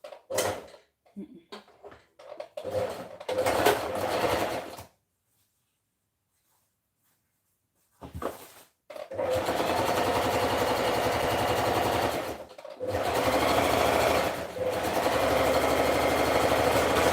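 A sewing machine stitches a dress in long, even mechanical runs with brief breaks between them, preceded by scattered handling noises and a short silence.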